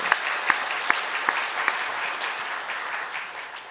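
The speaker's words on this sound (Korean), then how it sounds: "어제 그렇게 애쓰신 분들 위해서 우리 박수 한번 해드릴까요?" A church congregation applauds steadily at moderate volume. A few sharper individual claps stand out near the start, and the clapping holds evenly until it fades slightly at the close.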